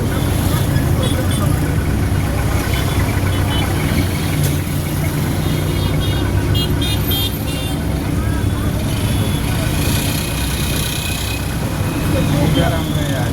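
A car's engine hums and idles steadily through a driving lesson in Guinea, holding a low, continuous drone while an instructor's voice talks over it almost throughout.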